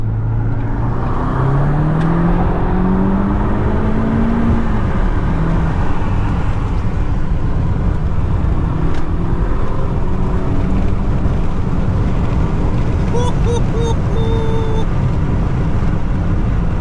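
Engine of an MK4 VW Golf 1.8T with an uprated fuel pump, revving steadily and climbing in pitch as it accelerates on a road test drive, heard loud and close from inside the car with constant road rumble.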